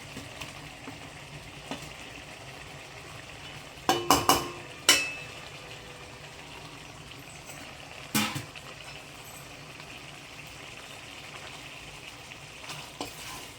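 Boiled eggs are added to an egg thokku masala frying in a pan, with a continuous sizzle and a few sharp clinks and scrapes of a spoon against the pan as it is stirred.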